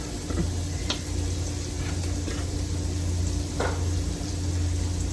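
Onion and garlic sizzle gently in a pan on low heat, a soft, steady crackle close by with a few faint clicks and a low background hum, and no voices.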